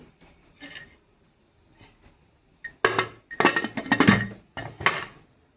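A pressure cooker lid being set and closed over mutton gravy: a few faint clinks, then a louder cluster of metallic clanks and scrapes as the lid is fitted, close by.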